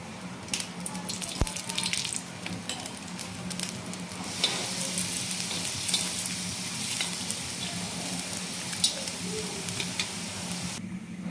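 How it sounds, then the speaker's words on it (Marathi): Coconut roasting in a little oil in a pan gives a steady, low sizzle with occasional stirring scrapes and clinks, continuous and moderately close, with no speech. "खोबरं पण थोडंसं तेल टाकून भाजून घेणार आहे"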